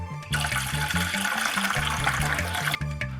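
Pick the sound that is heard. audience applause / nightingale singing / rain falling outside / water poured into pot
water poured into pot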